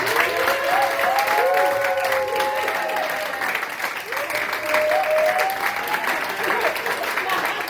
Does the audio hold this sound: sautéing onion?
no